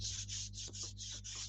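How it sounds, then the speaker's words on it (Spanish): Sandpaper drawn gently over a wooden canvas frame coated with chalk paint, giving a steady series of soft, close rasping strokes in an even back-and-forth rhythm, with no voices. "Vamos a pasar suavemente la lija sobre nuestro bastidor"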